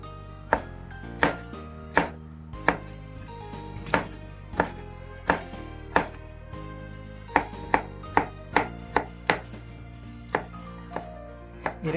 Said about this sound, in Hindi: टमाटर भी इसी तरह प्याज की तरह आपने चॉप करना है।